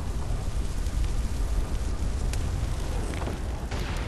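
Explosions in the video game Saints Row 4 form a steady, loud wall of booming rumble and crackling noise, with no clear gaps between the blasts.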